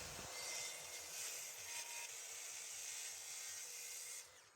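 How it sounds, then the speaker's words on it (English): Track saw cutting a board of bubinga wood, a loud continuous high whining roar with steady cutting noise, close, holding for about four seconds before it winds down. "then I use my track saw to cut it"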